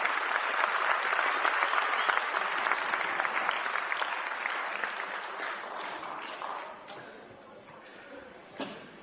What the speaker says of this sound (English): Give them a big clap.